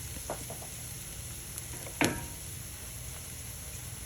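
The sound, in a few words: egg frying in a cast iron skillet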